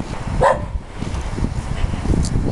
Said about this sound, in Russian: Большая собака.